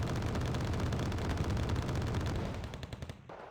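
Dense, continuous automatic gunfire from a Wargame: Red Dragon battle as units shoot at a forward operating base, loud and sustained rattling bursts that thin out near the end.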